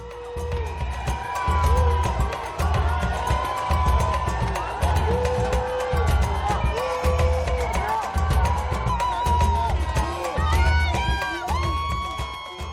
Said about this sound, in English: Some had come to cheer, but most were still cheering their beloved team.